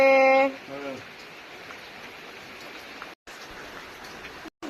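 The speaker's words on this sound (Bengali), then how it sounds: "আজকে বৃষ্টি প্রচন্ড বৃষ্টি" Dense, even rain noise fills the scene after a brief burst of voice at the start, continuing steadily with two short dropouts.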